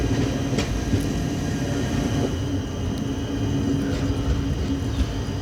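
A Vistadome passenger train on the Ranchi to Giridih route in Jharkhand rolls slowly through a station, giving a steady, continuous low rumble with faint rail clatter and no distinct horn.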